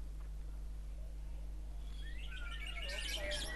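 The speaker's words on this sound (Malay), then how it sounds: "menganjurkan pertandingan seni kicauan keputeraan burung murai daerah Belait" Magpie robins at a regional birdsong competition in Belait sing a run of bright, rapid whistled phrases that build in the second half, carried over a constant low electrical hum and faint background murmur.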